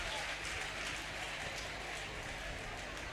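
Church congregation applauding loudly for Jesus during a testimony service, a steady dense wash of clapping and crowd noise that fills the whole moment without a break.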